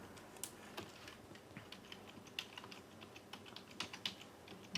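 An IP address being keyed into a computer keyboard in network setup software, with quiet, irregular clicks close by and small bursts of keystrokes, faint overall and free of speech.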